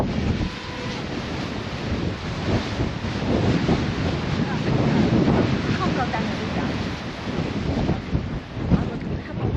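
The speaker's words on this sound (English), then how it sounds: "It's way too windy in my opinion." Strong wind buffets the microphone on a clifftop with heavy rumbling gusts and a roar like surf below, loud and continuous, with no clear speech.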